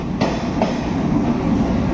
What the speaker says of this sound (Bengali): এই যে চলে এসেছে আমাদের ট্রেন।